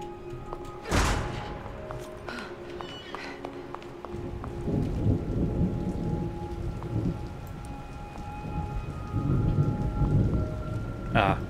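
Steady rain patters while a sharp crack of thunder hits early, followed by low rumbling thunder rolling on and off in the background, in the video game The Evil Within: The Consequence.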